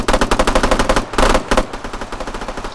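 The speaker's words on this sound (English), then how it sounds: "Nice shooting, lads." Automatic gunfire in the ArmA 3 video game, rapid loud bursts of shots in a steady rhythm, briefly interrupted by a heavier cluster of shots before the rapid firing resumes.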